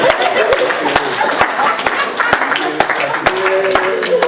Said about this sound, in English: let's give a round of applause for Charlie